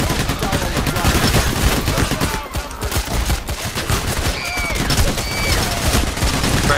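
Rapid gunfire bursts and scattered shots crackle densely throughout a Payday: The Heist street shootout, loud and continuous with brief lulls.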